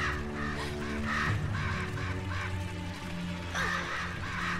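Crows caw again and again in Selma and the Wisp, harsh scratchy calls arriving in uneven bursts over humming in-game music, close and loud, with no voices.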